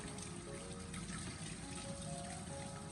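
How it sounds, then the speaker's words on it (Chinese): Peeled luffa gourd rinsed under a steady running tap, continuous splashing water alone and close throughout. "削皮过后，我们再将丝瓜给它清洗干净。"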